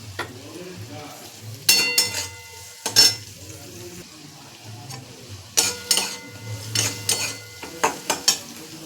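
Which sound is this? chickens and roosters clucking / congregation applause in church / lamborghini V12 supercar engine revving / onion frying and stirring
onion frying and stirring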